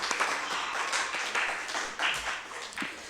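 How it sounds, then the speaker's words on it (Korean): Congregation applause during a Korean church Sunday service, a moderate, steady wash of clapping filling the room for about three seconds with no voices over it. "박수로 하겠습니다."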